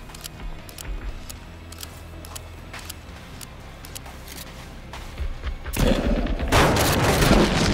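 Gunfire in the survival game Sons of the Forest: scattered sharp shots early, then a louder burst of rapid firing and booms toward the end, close and dominant with no talk.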